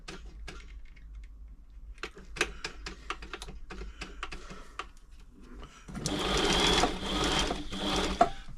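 A serviced New Home 508 sewing machine stitches in quick rhythmic bursts of clicking needle strokes, then runs continuously and louder near the end, close up with no talk.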